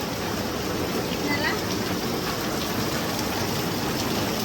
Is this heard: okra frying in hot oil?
no